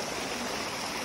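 Heavy runoff pouring down from the mountain after a night of rain, a dense, continuous rushing of water that is close and steady, with no voices.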